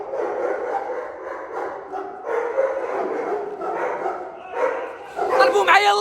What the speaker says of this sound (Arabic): دابا غنوريوكم مصنع الكلاب، مصنع الكلاب في الدار البيضاء